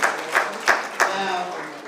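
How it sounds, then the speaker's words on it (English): At the 56th Annual Heritage Gala of the Korean American Federation of Los Angeles, a few distinct claps ring out in a banquet hall, rhythmic and moderately loud beneath ongoing speech. "give them a round of applause"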